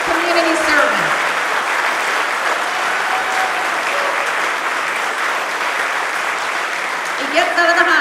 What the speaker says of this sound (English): How about a round of applause for this unbelievable community servant?